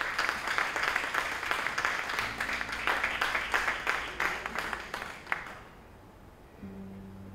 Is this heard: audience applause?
yes